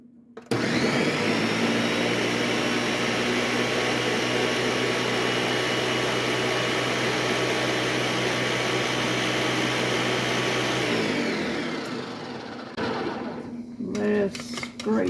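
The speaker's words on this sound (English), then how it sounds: "Now, we are going to blend this until it's smooth." A countertop blender whirs steadily for about eleven seconds as it purees a cream cheese mixture with cinnamon, loud and constant, then winds down with clattering at the end.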